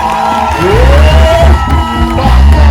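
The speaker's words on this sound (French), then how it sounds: "J'aimerais que nous puissions honorer maman évangéliste sur les acclamations." A church congregation breaks into loud cheering and acclamations, with whoops and shouts rising over a roaring crowd and a drum-like low thumping beneath, close and intense throughout.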